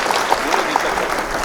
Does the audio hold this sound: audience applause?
yes